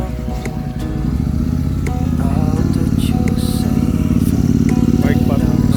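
A motorcycle engine runs close by on a road trip, a steady throbbing rumble that grows slightly louder while people talk over it.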